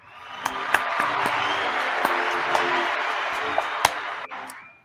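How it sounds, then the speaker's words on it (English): An audience applauds steadily for about five seconds at an event on humor and satire in advertising, a broad wash of clapping with a few sharper, louder claps standing out and no talk. "Another round of applause for Mr. Colt"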